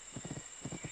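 Rapid clip-clop of horse hooves from riding in the video game My Little Riding Champion, a steady gallop of close, even hoofbeats in two quick bursts with no talk over them.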